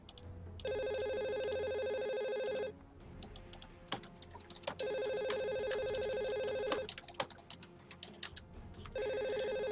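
A Steam incoming-call ringtone repeats in three long bursts of bright tonal ringing, with loud, rapid keyboard typing and clicks in between and alongside during a Dota gaming session.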